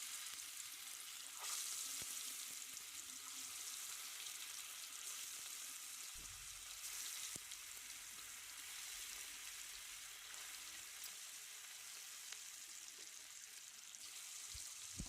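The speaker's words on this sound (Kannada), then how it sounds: "ಎಣ್ಣೆ ಕಾದಿದೆ, ಕಬಾಬ್ ಹಾಕ್ಕೊಳ್ಳೋಣ ಈಗ." Garlic chicken kebabs fry in hot oil with a steady, close sizzle and crackle that runs throughout, a brief low thump partway through as pieces settle into the pan.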